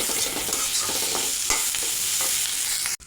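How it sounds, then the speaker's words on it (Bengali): Prawns, onion and chilli frying in a pan with a little salt give a steady close sizzle, overlaid by soft scraping stirs, until the noise cuts off abruptly just before the end. "চিংড়ি আর পেঁয়াজটা এইভাবেই ভেজে নেব"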